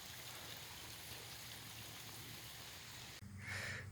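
Steady rain hisses and patters on surfaces, a dense continuous wash of droplets close by, briefly interrupted near the end by a different sound.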